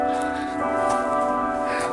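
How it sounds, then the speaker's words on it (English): Church bells ringing from some distance, sustained overlapping metallic tones that carry steadily throughout, loud despite the church being far back. "Got some church bells going on."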